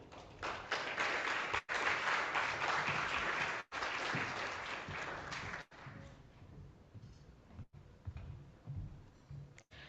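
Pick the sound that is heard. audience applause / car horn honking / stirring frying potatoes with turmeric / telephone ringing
audience applause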